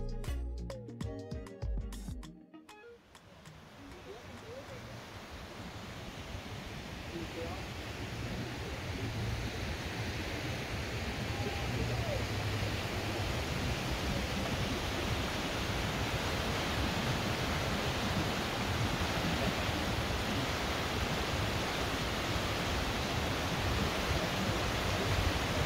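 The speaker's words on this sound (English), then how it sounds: "we heard a heavy flowing stream of water from a river. This river is known as Ketchikan Creek." Heavy, steady rush of Ketchikan Creek in Alaska, a river pouring hard in a broad continuous roar that swells up after a brief burst of other noise at the start and then holds loud and unbroken.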